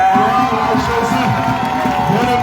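A church congregation in Grand Bassam cheers and acclaims loudly, with a mass of voices shouting and whooping together, sustained and close for the whole moment.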